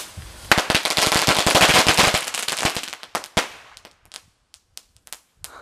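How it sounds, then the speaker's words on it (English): A homemade firework goes off outdoors in the cold as a rapid, loud crackling volley of sharp pops. The bangs thin out into scattered, fading snaps over the last few seconds. "Chris made homemade firework."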